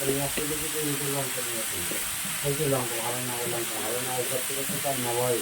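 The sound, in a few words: egg kalia masala frying after adding cumin powder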